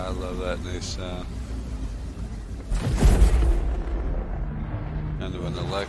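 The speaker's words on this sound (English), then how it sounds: "Kind of an electronic thunderclap." Quantum travel engaging in the Star Citizen video game brings a deep, booming electronic thunderclap that swells loud for a couple of seconds and fades, with someone talking before it.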